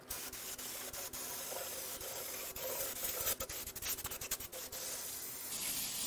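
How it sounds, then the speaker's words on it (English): Brake cleaner hisses in bursts onto an oil pump pickup from a Mini Cooper S N14 turbo engine during teardown, with short spray blasts and rattling, close and fairly loud. "I'm going to give this a quick brake clean bath."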